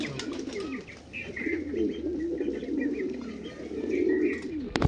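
Madrasi pigeons with green eyes coo softly and repeatedly in a close, low murmuring chorus, with faint chirps mixed in over a steady background.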